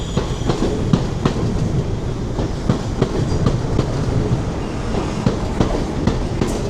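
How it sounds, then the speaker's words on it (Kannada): A train on the London to Birmingham service pulls into Northampton station, its wheels clattering steadily over rail joints in a loud, close, continuous rumble with rhythmic clicks. "train is just arriving"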